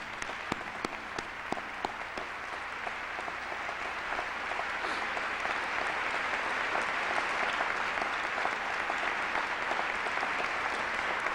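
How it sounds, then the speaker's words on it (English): A formal investiture audience applauds the honoree's family, starting with a few sharp distinct claps that swell into steady, moderately distant applause lasting throughout. "please join me in giving them applause of appreciation"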